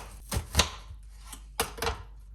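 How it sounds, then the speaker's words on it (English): A knife chops garlic and onion on a board with a handful of sharp, close taps in two quick pairs separated by a pause. "Now let's cut garlic as well. And I will cut onion only for 4 parts."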